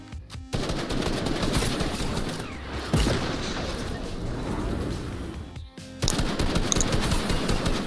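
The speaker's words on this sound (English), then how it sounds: "the rocket they had just fired explodes next to them" A rocket fired in Fortnite, with dense, continuous loud gunfire and explosions, a sharp blast partway through and a brief drop before the din resumes.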